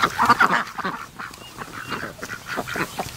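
Ducks at a lake quacking and honking in short bursts, a louder cluster at the start followed by scattered, softer calls over steady outdoor background noise.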